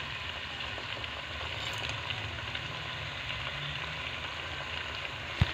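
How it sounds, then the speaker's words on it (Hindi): Chicken pieces frying in a pot with ginger and whole garam masala, making a steady, soft, continuous sizzle throughout, with a faint click near the end and no voices. "ये चिकन का कलर चेंज होने तक हमने फ्राई किया है"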